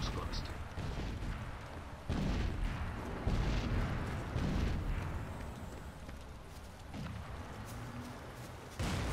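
Explosions go off in the video game Crysis Warhead, several deep booms and rumbling blasts spread over several seconds with someone talking over them.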